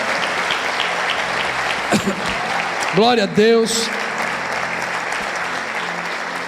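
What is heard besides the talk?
congregation applauding for Jesus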